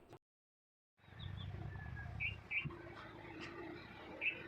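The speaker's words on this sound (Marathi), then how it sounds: "कसलं भारी वाटते ना त्या चिमण्या कावळ्याचा आवाज शांत वातावरणामध्ये" Sparrows and crows call in a quiet village, faint chirps and a few sharper calls scattered over a low background hum after a brief silence.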